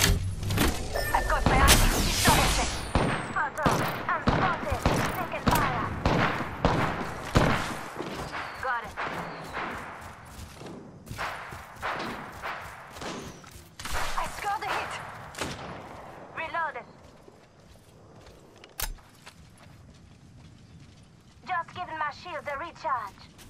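Gunfire in Apex Legends with a golden Spitfire: dense, rapid volleys of loud shots over the first half, thinning into scattered bursts and quieter stretches, with short spoken callouts mixed in.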